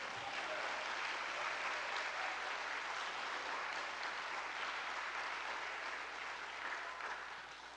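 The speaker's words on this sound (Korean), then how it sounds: "박수 한번 또 한번 칩시다." Sustained applause from a church congregation at a Sunday gathering in Daegu, a steady dense clapping that carries through the whole stretch and fades slightly at the end.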